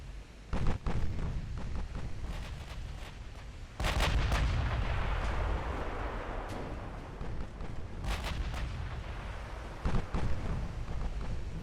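Heavy naval guns boom repeatedly in a Ultimate Admiral Dreadnoughts sea battle between battlecruisers, with several sharp nearby blasts and longer rumbling salvos rolling over a continuous low battle din.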